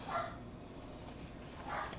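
A dog gives two distant, muffled barks, one near the start and one near the end, over a quiet indoor background.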